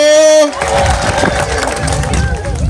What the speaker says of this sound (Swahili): tuwapigie wanahabari makofi mazuri jameni